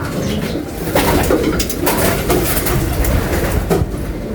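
Caged birds being given water and feed, their cooing calls repeating over a constant rumbling background, fairly close and without talk.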